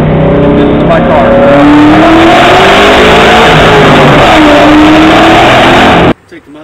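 A 1998 Ford Mustang Cobra engine revs loudly up close. Its pitch climbs and falls in a sustained roar that cuts off abruptly near the end.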